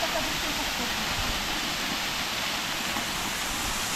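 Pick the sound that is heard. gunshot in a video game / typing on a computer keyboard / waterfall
waterfall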